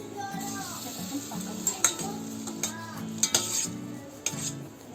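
Gulab jamun frying in hot oil while a spoon stirs them, with a steady sizzle underneath and repeated metallic clinks and scrapes against the pan, close and moderately loud.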